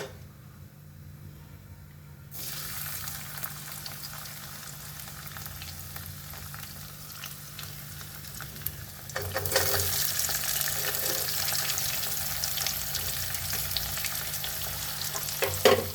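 Garlic and onion hit hot oil already seasoned with cumin and asafoetida, and the close sizzle swells louder as they go in, with stirring scrapes and no talking.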